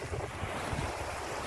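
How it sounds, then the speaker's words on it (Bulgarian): Large sea waves wash against a rocky shore on a sunny August day, a steady broadband surf roar with gusting wind buffeting the microphone throughout, continuous and fairly close, with no voices. "Вълните са големи, можете да видите, навсякъде има камъни."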